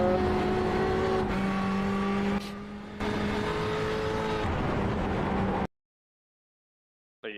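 A Porsche race car engine in a simulated Le Mans practice session drones loudly at high revs with a steady harmonic whine, dips briefly, surges again, then cuts to silence before a short burst returns at the end.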